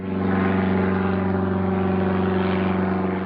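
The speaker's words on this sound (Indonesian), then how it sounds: "Beginilah suasana kokpit pesawat saat terbang di udara." Inside an airplane cockpit in flight, a loud, steady engine drone with strong low harmonic tones continues unbroken and close, with no voices.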